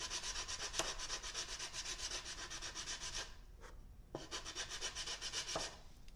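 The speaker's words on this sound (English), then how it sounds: "sand the heel here, see that line?" Sandpaper rubbed back and forth across the heel of a wooden piece in quick, steady close strokes, a brief pause midway before the scratchy rasping resumes, no voices.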